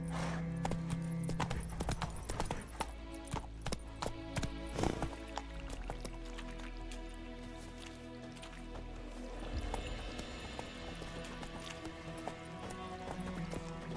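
Roach, a horse in The Witcher 3 video game, trotting with steady clip-clop hoof beats over a continuous game soundtrack, with a brief neigh near the middle; the hooves stay close and moderately loud throughout.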